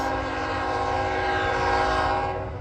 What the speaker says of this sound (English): Norfolk Southern with UP in the lead.